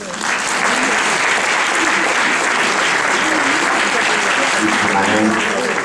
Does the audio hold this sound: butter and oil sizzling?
no